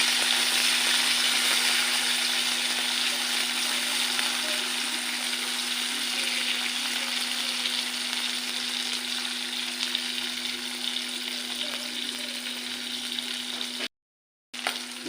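Shrimp coated in salt and turmeric sizzle in hot oil in a karai, a steady, moderately loud frying hiss that stays even for a long stretch before a brief gap of silence near the end.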